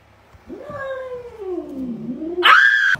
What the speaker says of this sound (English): a cat broke into my house